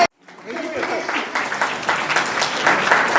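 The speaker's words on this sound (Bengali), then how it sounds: "একবার জোরে হাততালি চাইবো ওদের জন্য।" An audience at a scholarship day event in the Sundarbans breaks into applause after a brief silence, the clapping building into a steady, moderately loud patter with voices mixed in.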